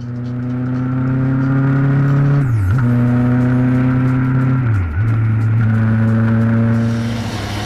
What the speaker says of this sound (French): une nouvelle sonorité avec cet échappement modifié. Moins feutrée en bas, elle se montre plus métallique et plus racing à haut régime